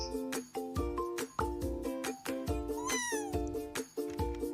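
A kitty cat pet meowing in a Roblox game, short repeated meows over bouncy, rhythmic in-game music with a bright rising chime partway through.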